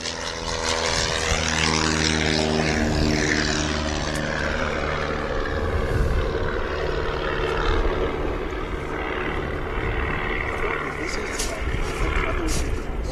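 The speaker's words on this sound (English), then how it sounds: "Another Piper departing there." A Piper light aircraft departs from an airport runway, its propeller engine droning loudly and steadily, then easing as it pulls away, with faint voices in the background.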